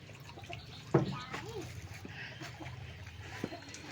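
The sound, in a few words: water being poured slowly while bathing a child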